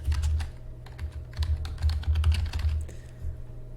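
Fast, close typing on a computer keyboard, with crisp key clicks in uneven bursts and short pauses, heard alone over a low steady hum.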